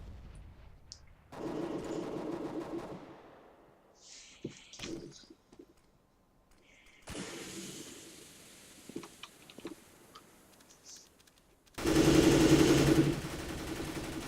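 A grenade bursts during a Counter-Strike match amid bursts of gunfire and in-game effects, with several loud, abrupt blasts separated by quieter gaps.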